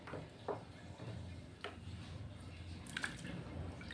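Potato sticks for chips being rinsed in a basin of water, with soft squishy splashes and a few sharp drips and clinks close by, fairly quiet.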